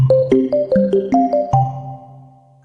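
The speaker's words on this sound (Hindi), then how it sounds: "फोन आ रहा" A mobile phone plays a melodic ringtone: a quick run of bright electronic notes rising and falling, ending on a held tone that fades away.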